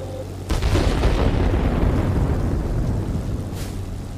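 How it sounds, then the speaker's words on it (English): A tank buster bomb detonates in the World of Warplanes video game: a sudden deep boom followed by a long, loud rumbling roar that slowly fades. "Ah, so it's a tank buster bomb, essentially."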